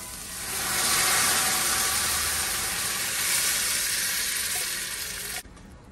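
A loud sizzling hiss erupts as a blended pumpkin stew mixture hits a hot pot, holding steady for several seconds before cutting off abruptly.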